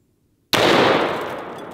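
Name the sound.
Barrett MRAD rifle firing a .338 Lapua round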